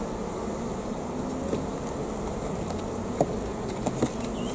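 Steady buzzing of many honey bees close by around a hive, a dense continuous drone with a few sharper passes of individual insects.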